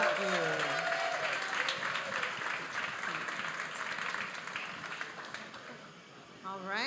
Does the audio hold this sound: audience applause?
yes